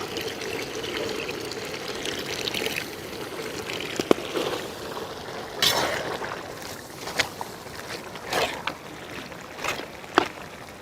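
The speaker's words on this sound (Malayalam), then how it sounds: "കുറച്ച് തേങ്ങാപ്പാൽ ഒഴിക്കാം." Coconut milk poured into a simmering goat intestine curry, a steady liquid pouring and splashing with a few sharp clinks of a utensil against the pan, fairly close and with no talking.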